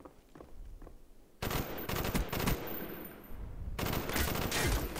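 Gunfire rattles in the video game Call of Duty: Black Ops, with quiet game ambience and faint footsteps giving way to two long, loud machine-gun bursts that each last a couple of seconds, with no speech.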